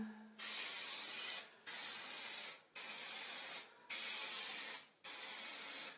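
An aerosol can sprays adhesive onto the back of a mirror in five long, steady hissing bursts, each lasting about a second with short gaps between, loud and close with no talking.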